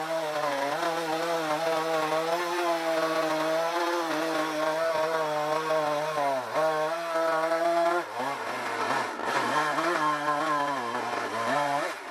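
Alaskan chainsaw mill cutting lodgepole pine: a chainsaw runs loud and steady under load throughout, its pitch dipping briefly as the cut bogs, close and continuous with no talk.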